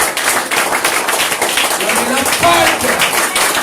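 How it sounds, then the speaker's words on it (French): A church congregation claps in steady rhythmic praise at a French-language service, the hand claps running continuously under a loud voice. "Nous applaudissons Jésus. Applaudissons à grand Jésus là."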